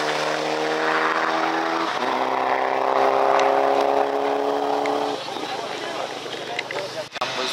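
Car at a Reșița 2018 motorsport event with a whining gearbox, heard as a sustained, loud mechanical drone that shifts pitch at about two seconds and fades out around five, followed by quieter background noise.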